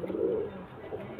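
Haru Kutu line pigeons give a short, low cooing call close by, lasting just over a second with no other sounds.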